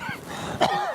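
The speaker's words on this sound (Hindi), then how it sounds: "बाबा को असल में स्मेल से खांसी आई है" A single cough brought on by a smell, loud and close, with a short throaty burst partway through amid a busy background.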